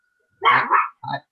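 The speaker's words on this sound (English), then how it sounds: "Excuse my dog, sorry about that." A dog at home barks during a board meeting, two loud, close barks, the first long and rough with a double pulse, the second shorter, against an otherwise silent background.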